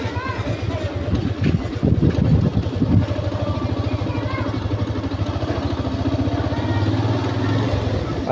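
A Yamaha FZS V3.0 motorcycle engine idles steadily up close in a residential area of Khulna, its low, even hum running throughout with wind buffeting the microphone and a voice speaking over it.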